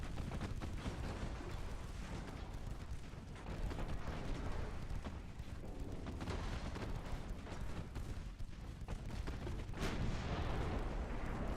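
Ship main guns fire armor-piercing shells in a naval video game, heavy booming artillery layered in dense rumbling volleys that continue without a break.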